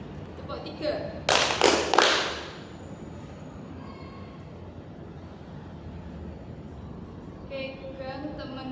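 A group in a school counseling session claps hands on command in a quick burst of about three claps. Quieter room murmur and movement follow the claps.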